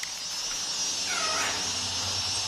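A single cat meow, drawn out and rising then falling, heard fairly close over a steady background hum with no talking.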